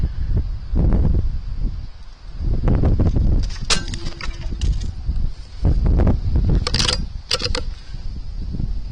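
Strong wind buffeting the microphone in heavy rumbling gusts outdoors at an air rifle shooting session, with clattering and sharp knocks of things being blown about nearby.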